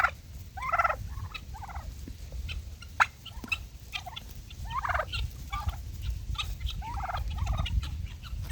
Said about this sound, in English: Look at these turkeys chasing this dog.